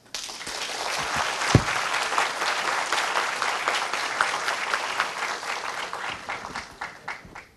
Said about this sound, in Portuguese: eu vou aplaudir vocês pela boa vontade